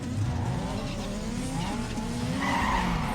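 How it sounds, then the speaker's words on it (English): Tire squeal and engine roar from a car burnout in the racing video game Need for Speed Underground 2, a steady, loud screech over a rumbling motor with no talk. "Burn it out, and away we go"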